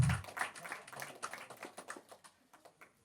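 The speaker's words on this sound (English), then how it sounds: "A big round of applause for our panel" Audience applause for a panel at an entrepreneurs' event on wealth management, with scattered claps that start fairly close and thin out, fading into isolated taps.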